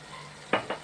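Masala powder is stirred into food frying in a pan, giving two quick scraping strokes over a faint background sizzle.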